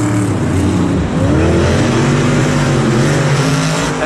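Monster Jam monster trucks, including Grave Digger, race at MetLife Stadium in 2018, their engines roaring loud and continuous with revving surges throughout and no break.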